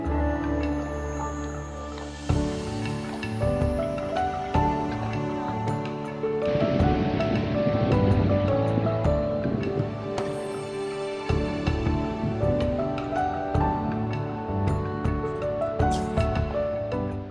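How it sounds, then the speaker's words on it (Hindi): Magod waterfall near Yellapur, Karnataka, pouring down in two steps: a continuous roaring wash of falling water, with wind buffeting and occasional rustles and knocks close to the microphone. "गिरजा जी, फॉल्स तो बड़ा जबरदस्त है, 2 स्टेप में पानी आ रहा है, एक सामने, फिर रुकता है वहां पर, फिर और आता है।"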